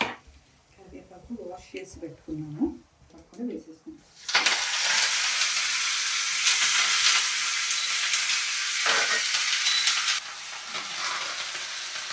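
Brief talk, then a sudden loud sizzle as tempering spices hit hot ghee, crackling steadily and filling the rest of the time.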